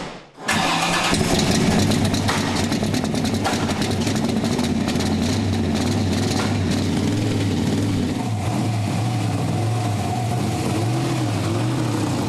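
Vintage Chevrolet Corvette C2 Stingray engine cranking and catching, then running loud and close with a steady, rumbling idle that carries on throughout.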